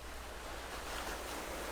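Ocean waves surging in a steady, broad wash of surf noise with a low rumbling undertone, continuous and fairly faint.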